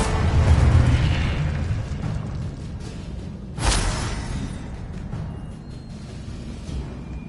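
A Confringo explosive spell goes off in the video game Hogwarts Legacy, one sudden booming burst midway over a low rumbling background of game ambience.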